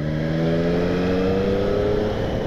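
Engine of a 2020 Triumph Street Triple S 660 motorcycle, a loud, close, steady harmonic drone with pitch rising smoothly as it accelerates, alone without talk.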